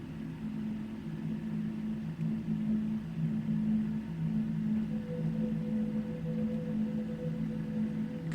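An LG PJ9B levitating Bluetooth speaker plays its subwoofer startup sound, a low droning, wavering hum with a higher steady tone joining midway, held at moderate volume for several seconds with no talking.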